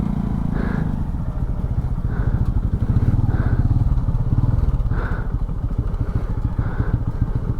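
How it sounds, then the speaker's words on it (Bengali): Motorcycles riding along a road at Jhimri near Chandil Dam in Jharkhand, a steady loud engine drone with periodic swells as bikes pass close by, continuous throughout. "দেখতে পাচ্ছ কিভাবে বাইক নিয়ে যাচ্ছে।"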